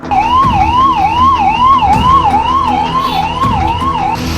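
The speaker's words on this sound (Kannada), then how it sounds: "ಗಾಡಿ ಆಂಬ್ಯುಲೆನ್ಸ್ ಹೋಗ್ಬೇಕು" An ambulance stuck in traffic wails its siren in a fast repeating up-and-down pattern, loud and close, over the rumble of traffic.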